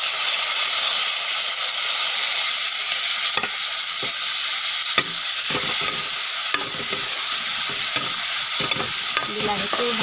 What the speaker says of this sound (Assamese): বিলাহীটো ভালদৰে ভাজি পেলাম মই এতিয়া